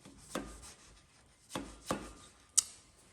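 A small mallet strikes a socket on a Renault D4F 1.2 16v petrol engine cylinder head: four sharp, fairly quiet taps at uneven intervals, close by, with no talking.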